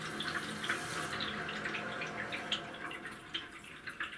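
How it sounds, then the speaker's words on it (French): Water running into a domestic water heater as it is refilled after descaling, a steady hiss of flowing water with irregular drips and gurgles, moderately close and alone. "Donc là on passe au remplissage du chauffe-eau."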